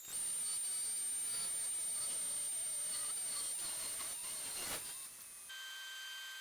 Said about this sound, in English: I'm just gonna use the bandsaw here